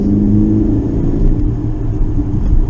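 A steady low engine hum and road rumble from inside a moving VW New Beetle (9C) with a 2-litre, 115 horsepower engine, fairly loud and continuous with no talking.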